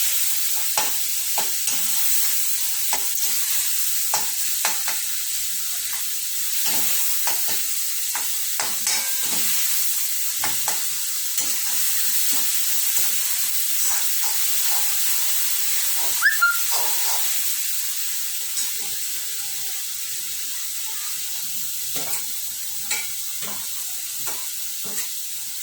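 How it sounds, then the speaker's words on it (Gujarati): Ginger-garlic paste sizzles and hisses steadily in a hot pan for a Gujarati green pigeon pea dal, with scattered scrapes and clicks of stirring throughout and no voices. "આદુ અને લસણની પેસ્ટ એને પણ 1-2 મિનિટ સુધી ફેરવશું જેથી અંદર મિક્સ થઈ જાય"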